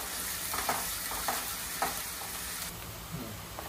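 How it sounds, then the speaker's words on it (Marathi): Onions frying in oil until reddish for lasooni methi chicken, a continuous close sizzle with several distinct stirring scrapes at intervals and no voices. "हे छान असे लाल कलर होईपर्यंत भाजून घ्यायचे आहेत"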